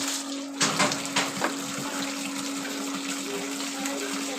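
Water running from a tap into bottles being filled, a steady close hiss and splash that starts with a few louder gushes and then settles into a constant flow, no talking.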